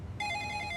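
A telephone bell rings with a steady electronic tone that starts abruptly after a brief quiet moment, clear and moderately loud with no talking.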